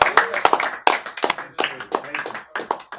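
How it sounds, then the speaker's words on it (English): Scattered clapping from a small showcase audience, uneven and sparse, with individual claps standing out amid voices talking and calling out. "one more round of applause for FRH."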